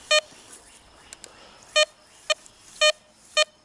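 A Tesoro Vaquero metal detector sweeps over a buried dime and gives a series of short, sharp electronic beeps in an irregular rhythm, with quiet pauses between them and no voices.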